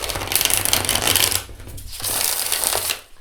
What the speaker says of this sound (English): But if you want to see a riffle shuffle, I'll try not to break cards